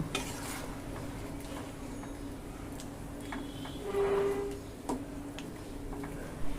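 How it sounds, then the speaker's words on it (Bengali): A spoon stirs chicken giblet curry with hot water in a pan, with soft scraping and clinks over a low simmering sizzle, close and fairly quiet, with no talk. "এখন জলের সাথে সব কিছু ভালো করে মিশিয়ে নেব"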